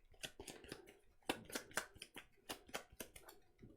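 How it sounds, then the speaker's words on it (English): A deck of cards for the board game Lost Ruins of Arnak is shuffled by hand on a table, a quick series of crisp riffling bursts in an irregular rhythm, close and fairly quiet, with no voice over it. "gonna shuffle my deck."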